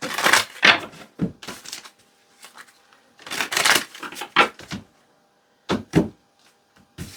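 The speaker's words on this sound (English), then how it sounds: "This is how I shuffle sometimes." A deck of cards is shuffled by hand at close range in short bursts of riffling and snapping, several separate rounds broken by brief pauses.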